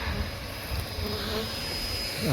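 A dense, steady buzz of bees swarming at a semi-exposed beehive being relocated from a hall, continuous and close, with no talking.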